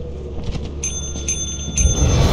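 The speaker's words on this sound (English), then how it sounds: "Ring the bell multiple times" A bell in the video game Lethal Company is struck three times in succession, each a sharp metallic ring with a short decay, loud and close over low background rumble.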